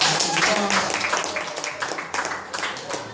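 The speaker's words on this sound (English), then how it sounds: "please give them a round of applause for doing that" A comedy club crowd claps for toy drive donors in a full, loud burst of applause that thins slightly toward the end, with faint voices mixed in.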